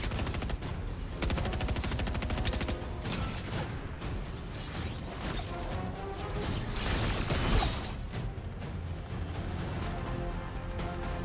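Pulse rifle gunfire in a video game: loud overlapping shots and bursts, including a quick rattling volley early on, amid dense game noise and crashes.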